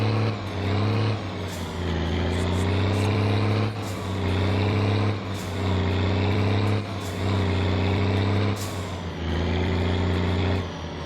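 Heavy truck engine in My Summer Car, the loaded vehicle pulling slowly in a low gear, a steady deep drone with strong low harmonics and periodic revving surges roughly every one and a half seconds, close and continuous with no talk.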